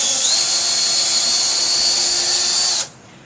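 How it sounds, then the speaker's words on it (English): A handheld power drill in a maker space whines steadily and loudly, its pitch rising slightly as it speeds up, then cuts off abruptly near the end. "I'm going to increase the speed that the drill goes by pressing my finger a little bit more"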